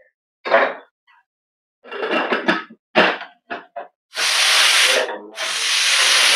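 A pressure cooker boiling jowar and potatoes in water vents steam in several short hissing bursts, then two long, loud rushing blasts of steam with a brief gap between them.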